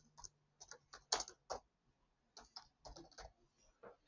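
Keystrokes on a computer keyboard as a shortcut name is typed, coming in short irregular bursts of clicks with brief pauses between them, close and moderately quiet.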